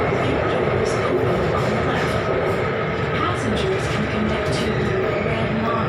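An underground Bangkok MRT train rumbles steadily along the tracks, a continuous roar with faint rattling, heard from inside the carriage with no break.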